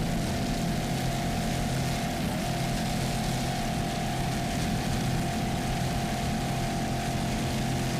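Offshore powerboat racing at Daytona with a 38-foot Cigarette and other boats, a steady roaring engine drone with a broad wash of wind and water noise, continuous and loud with no pauses.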